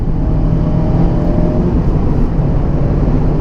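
Mazda Miata engine droning steadily while driving, a loud continuous low rumble mixed with wind and road roar from inside the car, with no breaks and no voices.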